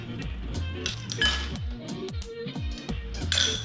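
Ice cubes clink and rattle against glass as an old fashioned cocktail is handled, a steady run of light, close, overlapping taps and rings.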